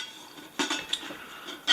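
Metal camping cook pot set clattering and clinking as the pieces are handled, with a few sharp knocks and rattles close by.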